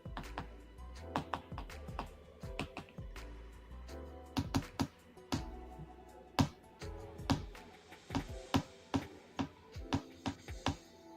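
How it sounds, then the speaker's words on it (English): Rapid, uneven keystrokes on a computer keyboard, close and fairly loud, clicking in bursts with short pauses and no talking over them. "while I'm typing this up"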